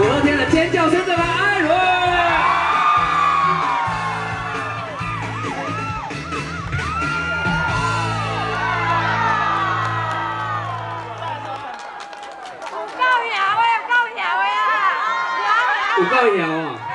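Outdoor community concert crowd in Su'ao, Yilan, screaming and cheering at a singer's call, loud and sustained, with whoops and chatter mixed through and a voice talking over the crowd.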